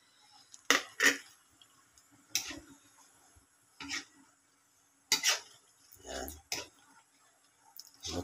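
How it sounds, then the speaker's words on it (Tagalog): Coconut milk cooking in a pot while being stirred, with intermittent scraping and clinking of a utensil against the pot in short bursts separated by quiet gaps, close by. "Luluto ko muna yung gata bago ko ilagay yung laing"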